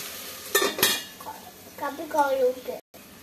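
Okra fry being stirred in a pan over a low flame, with sharp metallic clinks and scrapes of a spoon against the pan, a couple of sudden knocks followed by a quieter rattling stir, and a faint sizzle underneath.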